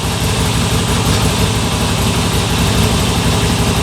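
A motorcycle engine idles steadily close by, giving a continuous low, rumbling drone with an even pulse and no voices.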